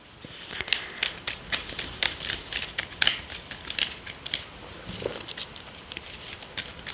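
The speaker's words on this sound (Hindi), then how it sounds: "let's shuffle the cards" A deck of tarot cards is shuffled close up, giving rapid papery riffling clicks and flutters in short uneven bursts, with no one speaking.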